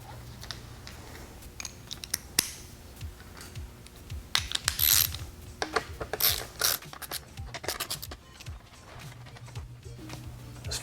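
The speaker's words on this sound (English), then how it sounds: "We will start with the removal of this fastener here." A ratchet removing fasteners on a 2014-2016 Yamaha FZ-09 motorcycle, close irregular clicking and metallic tool clatter in short bursts, with quieter gaps between them.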